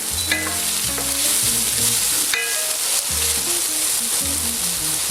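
Chicken fricassee sauce for a Provençal-style dish sizzling and frying steadily in a pan, with repeated stirring scrapes and clinks of a utensil breaking up the constant close, bright hiss.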